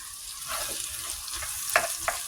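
Bitter gourd sautéing in a pan with eggs, a steady soft sizzle with a couple of sharper scrapes or clinks near the end, close and moderately loud, no talking.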